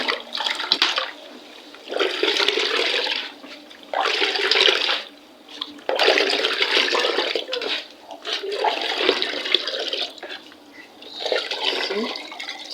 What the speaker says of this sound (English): So this is how I'm washing my local rice.